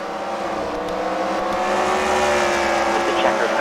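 Race cars run on a track at a racing league event, their engines holding a steady loud roar with passing whines. The sound is continuous for the whole stretch, and faint commentary may sit beneath it.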